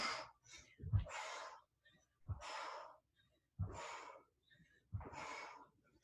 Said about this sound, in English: I like to inhale as I extend, exhale on the way down.